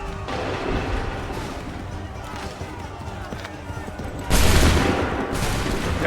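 Musket volley fired on command in Assassin's Creed 3, a loud crackling burst of many shots at once, with scattered gunfire and shouted orders around it.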